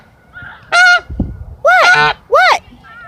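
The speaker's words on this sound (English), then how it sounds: "Apparently Pretty Bird's got something to say too" A pet bird squawks loudly indoors, letting out three harsh, honking calls in close succession, each about a third of a second long and very close, with soft chatter and quiet room noise between them.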